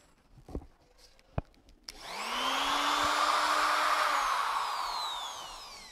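A household vacuum cleaner running off emergency power during an outage switches on after a few clicks and whines up to a loud, steady motor roar, close by, gradually easing slightly toward the end.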